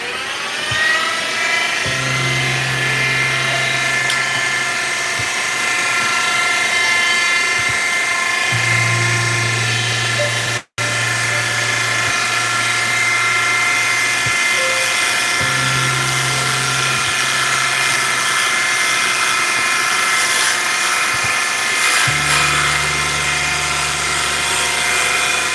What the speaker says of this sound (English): That's my lathe. I need some new bearings on it.